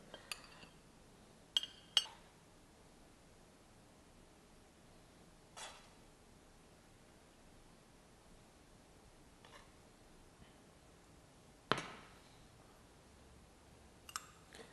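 Plates and cutlery clink while paprik ayam, a Malaysian chicken in red gravy, is plated with white rice: a handful of sharp, light clinks spaced several seconds apart over a quiet background.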